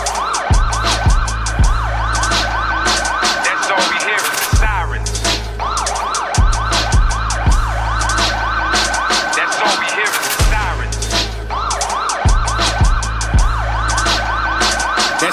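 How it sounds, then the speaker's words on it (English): Ambulance or police sirens wail continuously and loudly through a street block, rising and falling in repeated cycles with deep low rumbling beneath and occasional sharp thuds. "All we hear is the sirens, whether it's ambulance or the cops."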